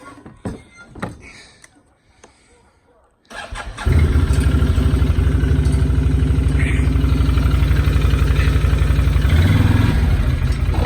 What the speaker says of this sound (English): So let's fire up the quad.